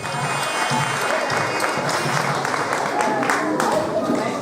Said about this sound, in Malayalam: നമ്മുടെ മാവേലി തമ്പുരാനെ കരഘോഷങ്ങളോടെ നമുക്ക് സ്വാഗതം ചെയ്യാം